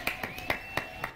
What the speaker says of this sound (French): Applaudissements pour Azé